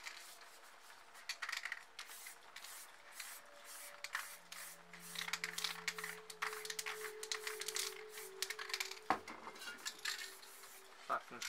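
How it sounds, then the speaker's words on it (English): Aerosol spray paint can releasing a light colour in a series of short, soft hissing bursts around a painted planet, faint and close, with a few small clinks between sprays. "grab your light colour, and we'll just spray it around there."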